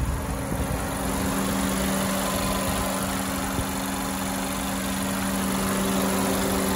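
A 2018 Honda CR-V LX engine idles steadily and close by, a smooth, even hum with a faint high whine and no voices over it.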